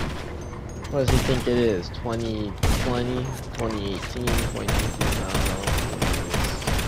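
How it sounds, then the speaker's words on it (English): Explosive-ammo gunfire in GTA Online, with repeated loud bursts of rapid shots crackling through the whole stretch while voices talk excitedly over them. "He has explosive ammo, this guy, dude."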